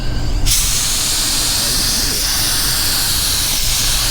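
Spray gun applying color shift pearl paint, a sudden loud broadband hiss that starts half a second in and holds steady and continuous to the end.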